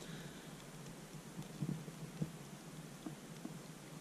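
Light rain falls outside a cabin on a cool day. It makes a quiet, steady patter with a few scattered louder drops and no other sounds.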